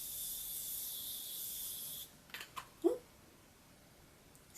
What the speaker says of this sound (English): to set the face, we're going to use the Morphe Continuous Setting Spray